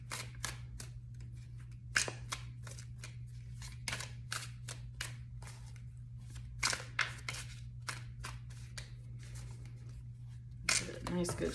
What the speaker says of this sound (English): Nice good shuffle though.